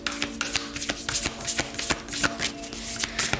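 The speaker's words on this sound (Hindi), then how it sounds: "मैं थोड़ी सी और कार्ड्स लेना चाहूँगी" Cards are shuffled and drawn for a pick-a-card reading, with soft, rapid riffling and flicking repeated in a close, fairly quiet rhythm and no talking over it.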